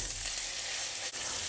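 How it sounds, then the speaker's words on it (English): Steady, bright sizzling of fish frying in a hot pan, a continuous hiss with a brief dip near the end. "You'll know when you put the fish in, you'll hopefully hear a nice healthy sizzle."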